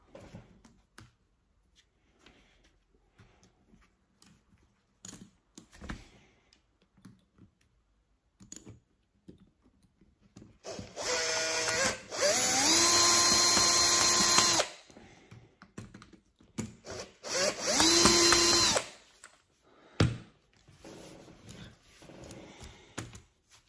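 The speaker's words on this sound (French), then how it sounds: "Je ferai le reste au tournevis." A power screwdriver whirs on a Traxxas E-Maxx RC truck in two bursts of a few seconds each, close and fairly loud, separated by small clicks and handling noises during front drivetrain work.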